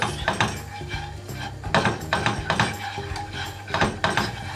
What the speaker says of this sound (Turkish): 2 yemek kaşığı unumuzu ilave ettik ve karıştırıyoruz